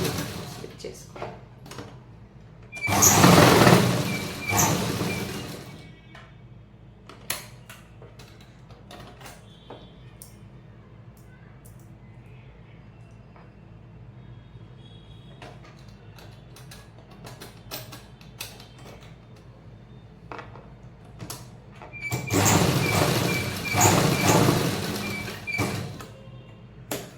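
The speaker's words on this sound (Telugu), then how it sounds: "స్టిచ్ చేసుకోండి." Sewing machine stitching a blouse, two loud whirring bursts of a few seconds each near the start and end, with quieter handling sounds and a person talking in between.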